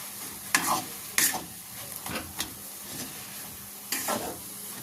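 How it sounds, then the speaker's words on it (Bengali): Pea kachori filling is stirred and fried in a pan, giving a soft, steady sizzle with a few sharper scraping strokes of the spoon at intervals. The cooking is heard close up with no talk. "এই সবগুলো ভালো করে মিশিয়ে নেবো দেখুন এইভাবে নাড়াচাড়া করে সবগুলো মিশিয়ে নিয়েছি"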